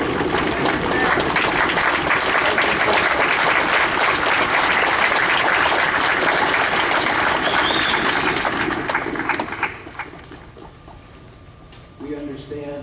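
A high-school auditorium audience at a county band concert breaks into loud, dense clapping for the parents, holding strong for about nine seconds before fading out, then a voice speaks briefly.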